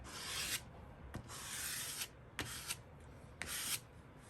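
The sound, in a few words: scraping paint across a journal page with a card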